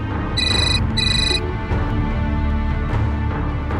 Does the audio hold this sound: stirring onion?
no